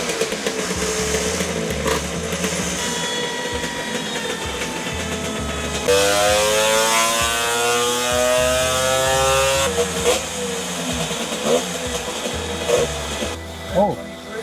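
A carburetted Lambretta scooter engine revs hard on a dyno, a loud, buzzing two-stroke note rising and falling through sweeps, with people talking over it near the end.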